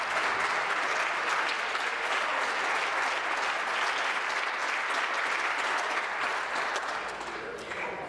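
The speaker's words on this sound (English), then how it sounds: "Once the ovation started, I could not hear her." Sustained applause fills the Ontario legislature chamber during a debate on legal aid, a dense, steady ovation of many hands clapping throughout, loud and continuous with no pause.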